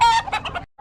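A rooster clucks loudly and closely in a few quick bursts, then briefly falls silent before another short cluck begins.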